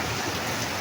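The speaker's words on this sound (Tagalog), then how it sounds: "Ang lakas-lakas po ng ulan" Heavy rain during a typhoon pours down as a dense, steady hiss. It stays loud and even the whole time, with no voices.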